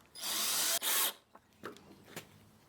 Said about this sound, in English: I'm drilling the countersink holes on the angled surfaces manually, like this.